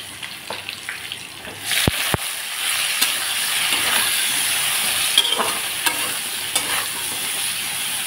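Vegetables and potatoes with turmeric and salt frying in a pan, a steady hiss and sizzle with occasional sharp clinks from stirring, close and fairly loud throughout, no talking.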